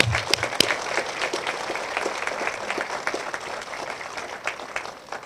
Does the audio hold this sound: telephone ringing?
no